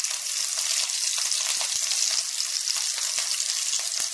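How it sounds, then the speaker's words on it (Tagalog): Onion frying in a pan, a steady bright sizzle with crackles and pops throughout, close and continuous with no talking. "I-fry natin yung onion guys."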